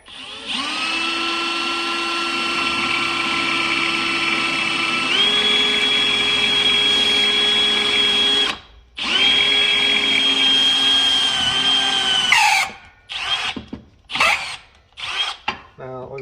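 A power drill bores a hole in an old brake line fitting for a Dodge truck, whining steadily at high speed, dipping in pitch under load, then stopping and finishing with short on-off bursts.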